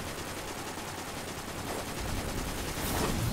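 Sustained, dense gunfire from a Destiny 2 boss fight against Praksis, a steady broadband roar of rapid shots with no talk, growing slightly louder toward the end.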